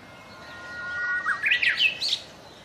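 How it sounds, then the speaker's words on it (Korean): A Jeju bush warbler sings in a forest after rain: a long rising whistled note followed by a quick run of bright, twisting chirps, close and clear over quiet background. "비가 그친 곶자왈 숲에서 한껏 목청을 높이는 이 새는 제주 휘파람새입니다."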